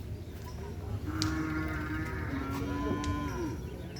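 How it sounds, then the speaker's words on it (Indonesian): Cows mooing in an open field during a cattle gathering, two or three long, low calls rising out of a steady outdoor hum, fairly close and clear. "Itu ada sapi datang lagi teman-teman."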